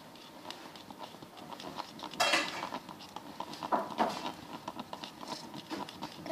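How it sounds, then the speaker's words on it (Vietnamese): Slime made from laundry detergent is stirred in a bowl, giving soft irregular scraping and clinking strokes with a few sharper knocks, faint and close. "Các bạn nhớ là phải khuấy cho thật đều nha các bạn."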